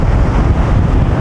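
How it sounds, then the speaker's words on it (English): Ocean surf rolling onto a quiet beach on Oahu, a steady loud wash of broadband noise with low rumble and wind buffeting the microphone, no distinct individual crashes standing out. "as you can hear the crashing of the waves"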